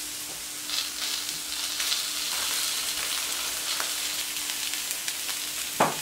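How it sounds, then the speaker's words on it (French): Shiitake mushrooms frying in oil in a pan for toasted rice, a steady close sizzle with soft crackles and a few sharper pops, no talking. "nos champignons, on va les laisser encore cuire encore 2 minutes. On va rajouter un petit peu d'huile."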